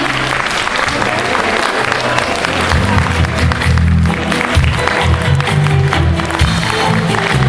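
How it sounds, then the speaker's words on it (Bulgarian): Audience at a film festival award ceremony applauds a best actress winner, loud sustained clapping with some cheering from a large crowd, a voice faintly mixed in. "Аплодисменти, моля Съни"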